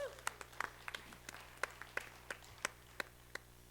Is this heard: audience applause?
yes